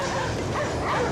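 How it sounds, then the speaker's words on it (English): Dogs bark and yip at a ship inside a video game, several overlapping short barks and whimpers within a dense, constant mix of game sound. "Dogs are barking at the ship."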